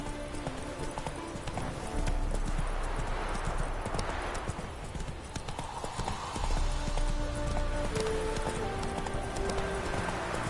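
Geralt's horse Roach galloping in The Witcher 3: rhythmic clip-clop of hooves under a busy game soundscape, with the gallop swelling in waves and music-like tones threading through.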